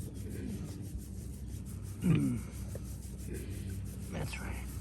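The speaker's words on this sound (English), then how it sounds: "I'm going to do a little belly rub" Hands rub the belly of a rescued pig during a chiropractic session, making a soft, close, continuous rubbing and brushing sound with one brief, louder scuff partway through.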